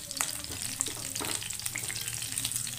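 A stuffed bitter gourd fries in hot oil, crackling and sizzling close by with scattered pops and a bit of stirring over a continuous hiss.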